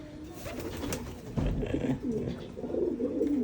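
Pigeons coo in low, throaty rolling bursts close by, with a steady hum of ambient noise underneath and no talking.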